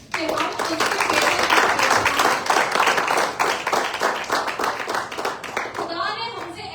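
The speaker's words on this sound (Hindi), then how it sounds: "अपने लिए तालियां बजाएं कि हम उसके बेटे" A church congregation at a Sunday service claps their hands loudly and steadily throughout, a dense wash of close applause that thins slightly near the end.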